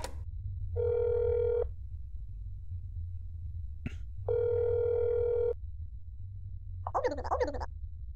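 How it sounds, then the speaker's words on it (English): A telephone tone sounds in the video game That Is Not My Neighbor as two sustained, evenly spaced bursts, followed by a brief click and a short burst of other noise. "Let's phone your sister, maybe?"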